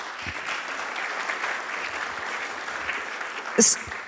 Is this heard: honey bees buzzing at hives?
no